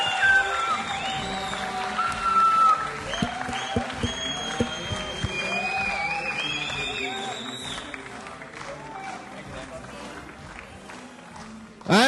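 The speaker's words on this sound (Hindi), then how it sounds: "जोरदार तालियां" A crowd at a film music launch gives loud applause for director Neeraj Pandey, with dense clapping and cheering that swells and continues for several seconds, then fades toward the end.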